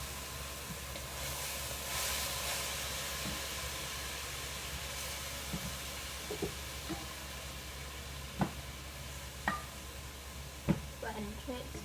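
Meat hitting a hot pot for a cornbread chili casserole, giving a continuous hissing sizzle with occasional sharp pops and clinks from the pot, steady and fairly close, while a person talks over it.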